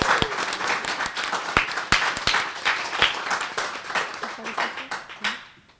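A small audience claps for readers at a creative writing club event, with a lively round of applause that includes sharp individual claps and cheering voices before fading out.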